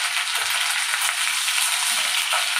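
Curry leaves sizzle loudly in hot oil with already fried mustard seeds for dahi rice, a steady bright hiss with light spattering crackles throughout.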